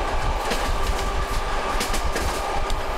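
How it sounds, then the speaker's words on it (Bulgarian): A steam locomotive over seventy years old, pulling a train out of Varna, gathers speed on the rails with a steady, loud rumble and continuous clickety-clack of the wagons, with no talk over it. "Въпреки достолетната възраст на парния локомотив, над 70 години, той ускорява доста добре"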